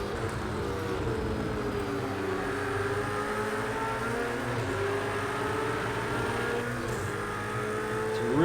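A Lamborghini GT race car in Project CARS 2 at Watkins Glen revs hard through the gears, a loud continuous engine whine with rising and falling pitch sweeps and no talking.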